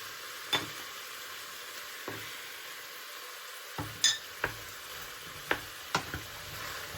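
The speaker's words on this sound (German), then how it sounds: "Jetzt alles gut miteinander vermengen" A spoon scrapes and clinks against a cooking pot while tomato paste and spices are stirred for Moroccan harira soup, several sharp scattered knocks over a faint low sizzle.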